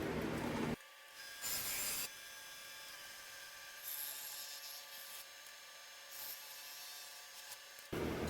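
Holster material being cut to a rough shape, with intermittent bursts of harsh rasping and sawing between quieter stretches, close and fairly faint, no talking.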